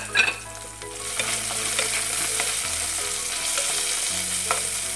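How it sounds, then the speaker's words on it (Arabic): Finely chopped onion fries in a pan with a steady, close hiss and crackle, with a few stirring scrapes over a low background hum and no talking. "ملي كتقلى ليا البصيلة شوية"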